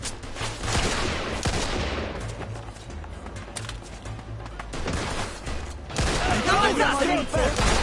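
Rapid bursts of gunfire ring out close and loud in repeated volleys, with shouting voices over the shots.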